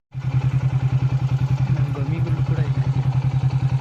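Motorcycle laboring up a hill road near Male Mahadeshwara Hills in a single gear, its engine thumping in loud, rapid, steady pulses right up close from start to finish.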